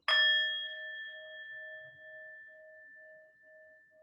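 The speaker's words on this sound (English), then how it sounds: "Let's ring the bell one time." A single bell is struck once, giving a bright ringing ding that rings on and slowly fades over several seconds, with no talk over it.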